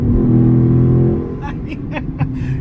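Cars on a road speed up as if racing, a loud engine rumble that fades after about a second, followed by someone talking over the quieter traffic.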